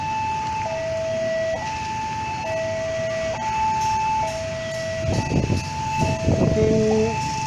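A Brantas Tambahan passenger train departs, its horn sounding long and steady with alternating pitch over a continuous rumble of rolling stock, moderately near with some clanking at the end.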